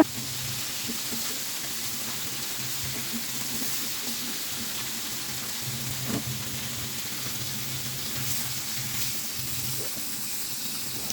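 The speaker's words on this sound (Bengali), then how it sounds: "মাছগুলো ভাজা হয়ে গেছে এখন আমি উঠিয়ে নিচ্ছি" Fish frying in hot oil in a pan gives a steady, even sizzling hiss that runs unbroken at moderate loudness, with a few faint pops and no talking.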